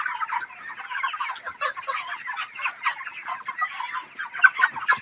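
A dense chorus of broiler chickens clucking and chattering together, continuous and busy, with occasional louder calls rising above the flock.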